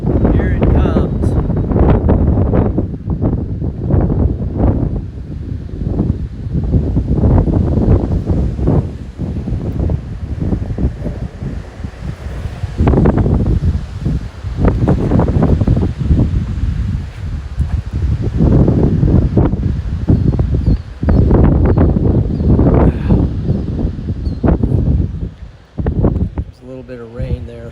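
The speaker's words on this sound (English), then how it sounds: "Wow, it's windy." Strong gusting wind roars and buffets the microphone as a shelf cloud storm with 70 mph winds rolls across Nebraska, loud and close throughout, with rustling and occasional faint voices under it.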